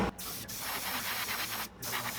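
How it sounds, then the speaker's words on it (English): An airbrush or spray gun coats an airplane-style fishing lure with deep blue paint, a close, steady hiss broken by two short pauses between passes. "then going over the whole thing with a wider spray pattern"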